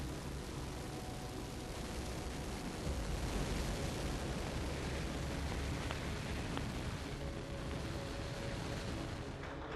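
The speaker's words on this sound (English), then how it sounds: "Main engine ignition and liftoff of the Atlas V rocket with LRO" An Atlas V rocket's main engines ignite and lift off carrying a lunar orbiter, producing a steady, broad, distant roar. The rumble stays constant and slightly swells partway through.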